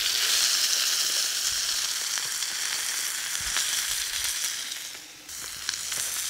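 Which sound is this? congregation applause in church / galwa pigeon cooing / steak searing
steak searing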